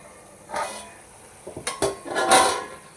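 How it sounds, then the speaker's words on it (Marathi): A lid coming off a cooking pot, with a soft metallic knock and then a cluster of clinks and scrapes in a quiet kitchen. "झाकण आता आपण खोलून घ्यायचं आहे"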